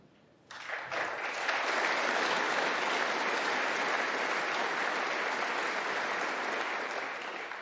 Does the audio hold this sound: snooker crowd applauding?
yes